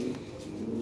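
European Lahori pigeon cooing at close range, a low steady throaty coo running through the whole short moment with soft background noise.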